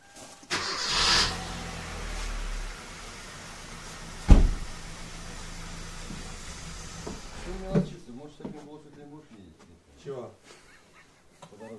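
A Kia Cerato engine cranks and catches with a loud burst, then idles steadily at close range, with a sharp clunk midway and people talking over the running engine toward the end.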